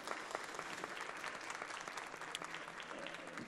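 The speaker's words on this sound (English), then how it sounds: "On peut l'applaudir très fort." Audience applause for a minister at a Nordic climate solutions event, steady dense clapping from a crowd throughout, moderately loud.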